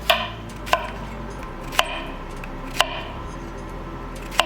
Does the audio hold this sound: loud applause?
no